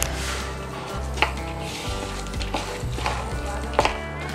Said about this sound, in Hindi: अब सभी चीज़ों को मिक्स कर लेंगे।